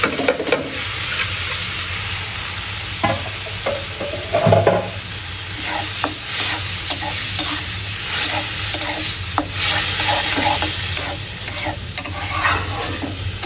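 Onion, garlic, ginger paste and dried chilli fry in hot oil for a spicy dal bhuna, a steady close sizzle broken by repeated scraping stirs of a spatula against the pan.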